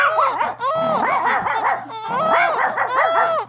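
A big dog makes excited, yelping, whimpering barks in several bursts, loud and close, with a brief pause in the middle and a low steady hum underneath.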